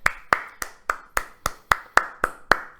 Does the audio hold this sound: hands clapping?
yes